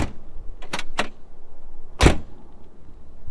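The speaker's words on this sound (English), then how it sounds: "This door, now just listen to the audio of this door." A heavy door on a 1980s Mercedes SL roadster shuts, with a few light latch and handle clicks first, then one solid, deep, close thunk, followed by quiet.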